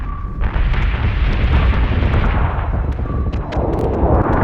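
Spaceship combat in Battlestar Galactica Deadlock: a ship under sustained fire, with loud, dense explosions and booming impacts rumbling one after another, unbroken for several seconds.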